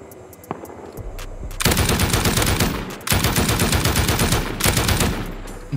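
Turrets in a video game unleash loud, close bursts of rapid automatic gunfire, with a short lull between two sustained volleys and no talking.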